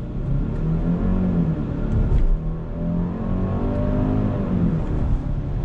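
A 2021 Genesis GV80 Advanced SUV with a 300-horsepower engine pulls away from a standstill in paddle-shifted first gear, its engine drone rising steadily and loudly as it speeds up, heard from inside the cabin.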